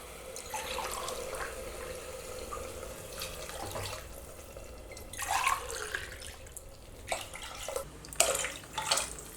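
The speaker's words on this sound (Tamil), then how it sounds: "நான் 4 கப் தண்ணி சேர்க்குறேன்" Water pours and splashes into a pot holding rice in uneven bursts, close by, with gurgling surges growing louder toward the end.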